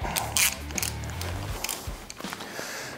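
A hand ratchet on a 2022 Harley-Davidson Low Rider ST snugs down a nut while a Vance & Hines air cleaner is fitted, giving quick, close clicking bursts over about three seconds.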